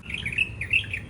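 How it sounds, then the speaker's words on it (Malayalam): Small birds chirping in a quick series of bright, high tweets, moderately close and heard clearly alone over a faint low background hum. "എന്തൊക്കെയോ പക്ഷികളുടെ ശബ്ദം."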